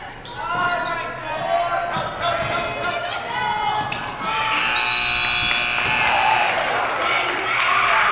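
A loud electronic buzzer blares for a couple of seconds over a noisy high school girls' basketball crowd, with squeaking shoes and a bouncing ball in the background.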